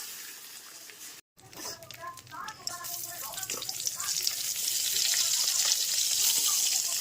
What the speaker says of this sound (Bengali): এবার কড়াইতে তেল দিয়ে শুকনো লঙ্কা আর পাঁচফোড়ন দিয়ে দিয়েছি, আর খুব ভালো করে ভাজা হয়ে যেতে মুগ ডাল দিয়ে দেবো।